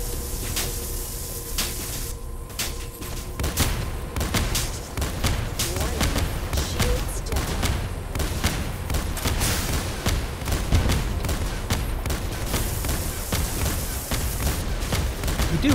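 Torpedo launches and rapid weapon fire in the Star Conflict space combat game, a dense continuous barrage of sharp bursts and booms heard throughout.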